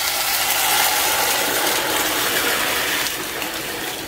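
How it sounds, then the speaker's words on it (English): Four cups of water poured into a cooking pot for boiling green grams, a continuous splashing gush with a ratcheting, gurgling texture that eases slightly toward the end; no talking. "So I've added in 4 cups of water."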